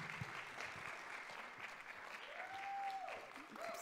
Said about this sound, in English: Let's give Toni Tipton Martin a round of applause, please.